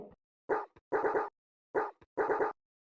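A dog woof sample pitched up an octave with reverb, used in a dubstep track: short, sharp barks in quick clusters of one and then several, separated by silence.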